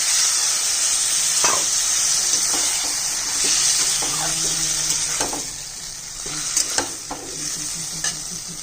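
Water hits a sizzling pan of curry with potato and greens stems; constant frying hiss with repeated spatula scrapes and a few knocks, close and loud, no speech.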